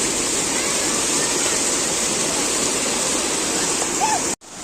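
Rushing water at a family outing spot where children swim, a steady loud broadband roar filling the whole clip, with faint voices underneath and a brief dropout near the end.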